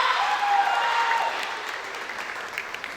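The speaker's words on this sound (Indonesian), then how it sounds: "Beri tepuk tangan dulu dong." An audience at a school dance performance event in Padang applauds steadily for a few seconds, a dense wash of clapping that stays fairly loud, then eases slightly toward the end.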